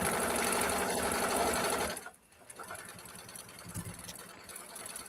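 Sewing machine stitching around a fabric bag, a fast steady whirring run that stops abruptly partway through, followed by quieter faint room noise and small handling sounds.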